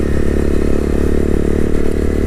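Honda CB300R 300cc single-cylinder motorcycle engine running steadily while riding, a loud, constant low throbbing drone with a faint mechanical clatter throughout and no voices.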